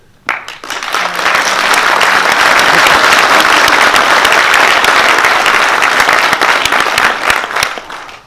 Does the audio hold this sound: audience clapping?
yes